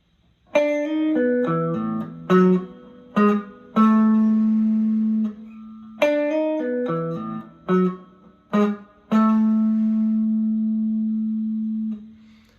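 An electric guitar plays a short riff of plucked notes from a song's intro twice, each pass ending on a long sustained note that slowly fades.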